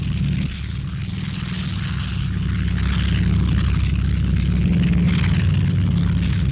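Propeller engines of WWII Allied Boston bombers flown by the Free French Lorraine Squadron drone loudly and continuously, a dense low roar with a steady engine hum throughout.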